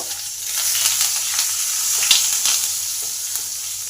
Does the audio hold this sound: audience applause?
no